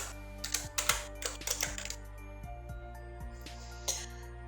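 Fingers tap out an email address on a computer keyboard, a quick irregular burst of close key clicks, then a pause and a few sparser taps, over a low steady hum.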